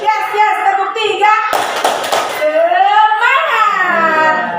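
A group of adults and children clapping together in one dense burst of applause-like slaps between stretches of lively talking voices.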